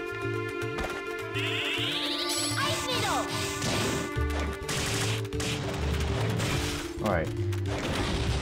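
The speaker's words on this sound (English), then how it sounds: "Crossbow has explosive arrowheads." Explosive crossbow arrow bursts in Castlevania Portrait of Ruin, a cluttered run of crashing, crackling blasts and clanking hits over game music and a rising sweep, dense and loud throughout.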